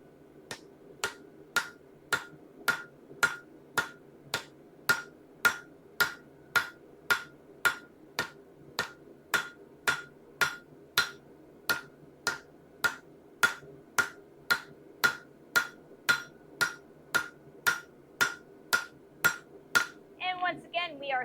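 A blacksmith hammers the outside edge of a hot axe head on an anvil, sharp ringing blows landing in a steady, even rhythm, about one and a half per second, close and clear, with a brief squeal at the end.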